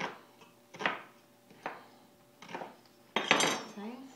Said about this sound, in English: peel off this outer layer, and then I'll just chop it up